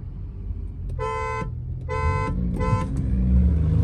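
Three evenly spaced car horn honks, each about half a second long, signal the start of a street drag race between a tuned Monster GT and a Laura stage 2+, with engine rumble building underneath and continuing after.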